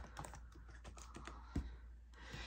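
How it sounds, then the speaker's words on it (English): Password being typed on a computer keyboard: a quiet, close run of irregular key clicks with one sharper tap partway through, against a low room hum. "I'm typing in my password wrong."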